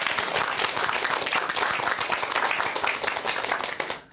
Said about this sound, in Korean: 동의하시면 박수 한번 주시기 바랍니다